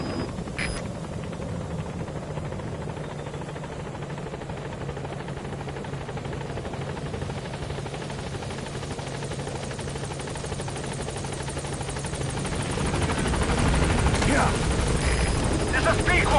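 Helicopter Pequod arriving at a landing zone in the video game Metal Gear Solid V, a steady whirring rotor and engine drone that swells louder near the end, with voices talking over it.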